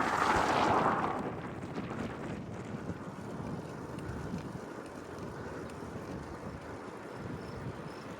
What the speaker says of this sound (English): So the wind changed directions on me